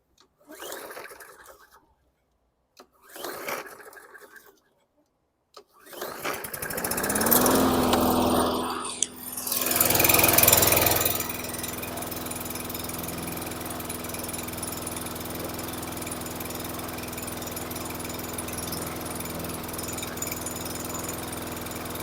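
A 2013 Troy-Bilt push mower with a fire-damaged engine and a fresh spark plug coughs and then starts, revving up loudly before settling into a steady, low, buzzing idle that continues to the end.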